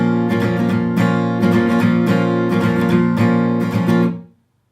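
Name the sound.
guitar strumming rhythm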